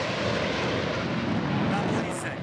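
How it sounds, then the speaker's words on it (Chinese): An F-16 fighter jet passes overhead at a military air base, a steady broad roaring rush of engine noise that stays loud and even throughout the short stretch. "F-16 战机在空中飞行"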